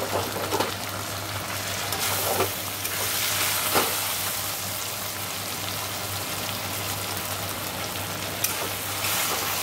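Potatoes fry in a pan in a home kitchen, an even, close sizzle with occasional louder spits and crackles over a low steady hum, without speech.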